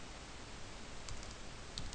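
A few faint, isolated keystrokes click on a computer keyboard while a command is typed, sparse and quiet against a low background hiss.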